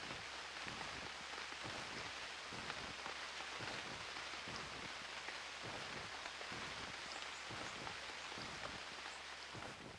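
Steady rain falling in the survival game UnReal World, a constant close hiss of drops on surfaces with no break or voices.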